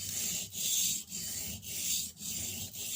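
Steady back-and-forth rasping of a spokeshave blade worked on the soft side of a 600/400 grit sharpening stone, five even strokes with brief pauses between, close and alone.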